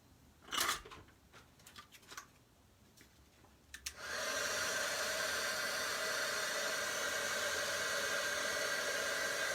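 Heat tool switched on for heating craft card pieces, preceded by a few soft handling clicks and taps, then a loud, steady whooshing blower roar that runs continuously for the rest of the clip.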